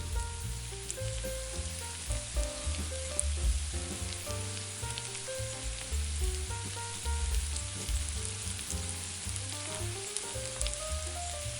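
Cut tomatoes sizzle with tender onions in a pan for a tomato and butter pasta, a steady, close crackling fry with faint stirring and no talk.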